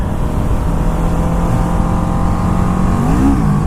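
A 2016 Kawasaki Ninja 650 motorcycle engine drones steadily and close up, then briefly revs higher and falls back near the end as the rider pops a small wheelie off a bump.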